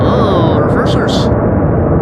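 Jet thrust reversers roar as an airliner lands at Amsterdam Schiphol Airport, a loud, continuous, heavy rumble that fills the whole moment and fades slightly near its end.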